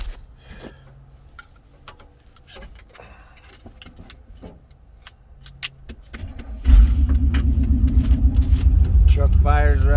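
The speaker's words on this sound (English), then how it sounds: "Truck fires right up." A 1991 Chevy 2500HD truck engine cranks and fires right up after an ignition switch replacement, with keys jangling and clicks first, then a loud steady idle after the start.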